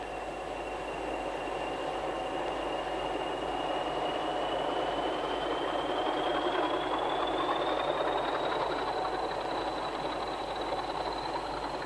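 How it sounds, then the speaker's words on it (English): A freight train rumbles steadily past at close range over a weighbridge, its engine droning under a rising high whine, continuous and fairly loud throughout. "As the train emerges from the bunker, it passes again over the electronic weighbridge"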